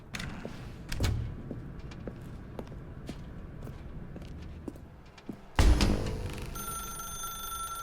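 A telephone rings in The Stanley Parable: Ultra Deluxe, entering loud partway through with a bright repeating ring after scattered soft footsteps and thuds, no voices.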